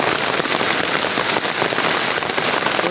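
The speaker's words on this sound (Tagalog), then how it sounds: "Ayun, lakas ng ulan." Heavy rain pouring steadily onto surfaces outdoors, a loud, dense, continuous hiss of drops with no voices over it.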